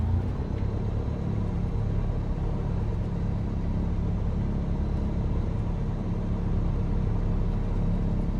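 A small propeller airplane engine idles steadily on the ground after landing on a Kauai tour flight, a constant close, loud rumble with no breaks, voices, or other sounds.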